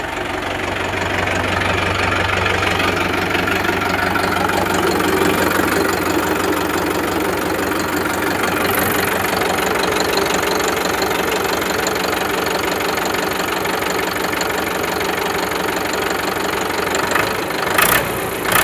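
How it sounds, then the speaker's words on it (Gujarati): A Sawraj 841 tractor with self-start, its diesel engine running in good condition without smoke, gives a loud, steady, close-up rumble that holds throughout with a constant rough knock. "ગેસ બી ફૂકતું નથી એન્જિન એક નંબર"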